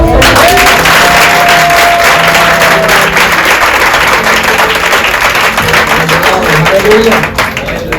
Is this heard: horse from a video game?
no